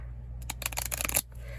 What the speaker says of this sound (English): This deck's kind of hard to shuffle.